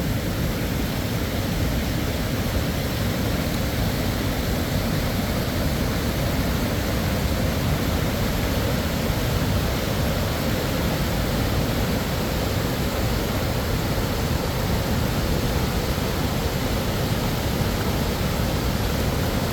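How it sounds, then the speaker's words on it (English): A river pours into a waterfall, producing a loud, unbroken roar of rushing water that stays constant from start to finish with no other sounds. "Being able to get a river that flows into a waterfall"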